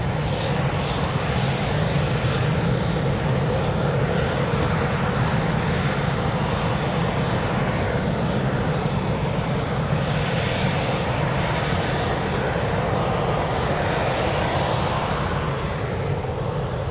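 Eurofighter Typhoon jet engines at RAF Coningsby, a loud continuous roar with a broad rumble that holds steady throughout, heard from nearby with no talk.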